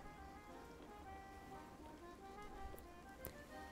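A heavy rain downpour falls in Sea of Thieves as a faint, steady wash of patter, with a few sharp drop-like ticks and soft low rumbling underneath.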